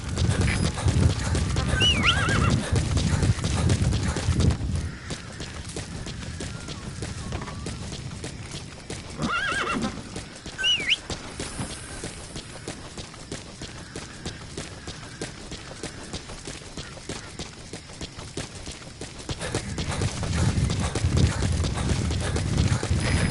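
A horse in the video game Metal Gear Solid V whinnies and clops its hooves, with a burst of hoofbeats and neighing at the start, quieter movement through the middle, then louder trotting again near the end.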